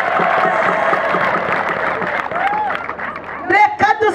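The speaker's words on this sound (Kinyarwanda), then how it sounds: "komera Imana yacu amashyi" A church congregation applauds together in a steady, dense wash of clapping with crowd murmur, loud and sustained, with voices rising over the clapping near the end.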